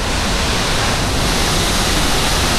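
Hulugan Falls in Laguna pours with a dense, loud, continuous roar of rushing water, a full hiss that never lets up.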